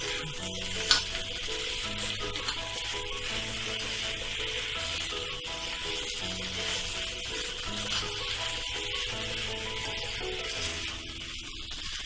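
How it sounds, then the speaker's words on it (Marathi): Diced potatoes are stirred and scraped around a hot pan with continuous sizzling, steady and close, with no talking. "भाजी ना चांगली खालीवरती हलवून घ्यावी।"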